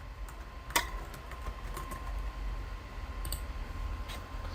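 Computer keyboard keys tap in scattered clicks while a username and password are entered on a Windows Server remote desktop login, with a few sharper clicks over a steady low background hum and no talking.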